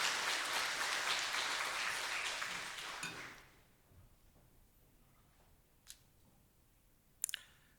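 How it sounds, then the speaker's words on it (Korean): A church audience at a Wednesday service applauds to welcome the preacher. The moderately loud clapping lasts about three seconds, then dies away into near quiet with a couple of faint clicks. "우리 전사님 오늘 말씀에 은혜 받기를 사모하는 마음으로 크게 한번 박수로 환영하겠습니다."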